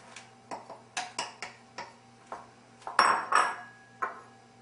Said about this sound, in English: Now add the 2 tablespoons of the butter and all of the vegetables.